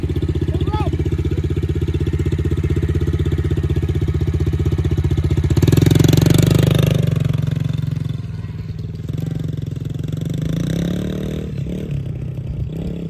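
A Yamaha TTR-110 dirt bike at a pee wee track, its small single-cylinder engine buzzing steadily close by, swelling into a louder rev in the middle before settling back, with someone talking over it.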